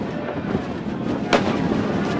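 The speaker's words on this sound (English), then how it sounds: "As the fireworks behind us here at Victoria Park, lighting up the sky on this bonfire night" Bonfire night fireworks burst behind Victoria Park football ground in Burscough, one sharp distant bang standing out over a steady crowd and stadium hubbub.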